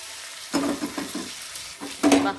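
Hot tempering for Tirumala-style sambar sizzles and crackles in a few loud bursts as it is poured and stirred into the pot, close up and with no speech.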